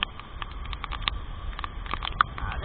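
Light rain patters steadily with scattered small drips and taps, a faint hiss underneath, no voices.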